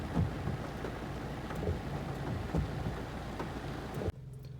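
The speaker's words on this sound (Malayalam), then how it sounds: "നല്ല മഴ കേട്ടോ" Heavy rain at Trivandrum's domestic airport pours as a steady dense hiss heard from inside an Uber car, cutting off abruptly just before the end.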